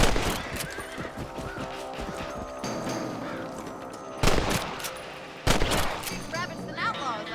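Rifle shots at rabbits in Red Dead Redemption, with two sharp loud cracks standing out over a busy game soundscape of music, ambience and character voices.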